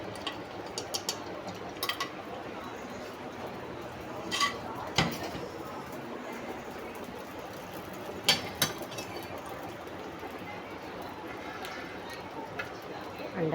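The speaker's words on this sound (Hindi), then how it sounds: "अंडा फ्राई हो रहा है" An egg frying in a pan for fried rice, a steady broadband sizzle running throughout, with a few sharp clinks and scrapes of utensils against the pan.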